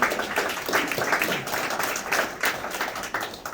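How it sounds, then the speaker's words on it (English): An audience at a 2020 general election forum on Issue 1 applauds two speakers, producing a steady wash of clapping at moderate loudness that runs the whole time with no clear pauses. "Let's give them both a round of applause."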